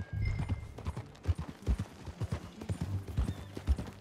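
Horse hooves clip-clop steadily while riding in the Western open-world game Red Dead Redemption 2, a rhythmic, close clatter of hoof falls over low background game ambience.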